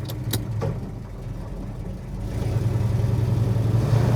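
A 1970 Chevrolet Chevelle SS pulls away, its mid-pitched engine rising to a steady, close, fairly loud drone after a few brief clicks and jangles at the start; no one speaks.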